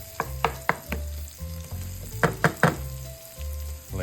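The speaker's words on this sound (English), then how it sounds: "Now, as you can see, everything's cooking nicely now." Food sizzling over raised heat in a pan before sausage is added: a close, steady frying hiss punctuated by sharp clattering knocks of a utensil, with no voices.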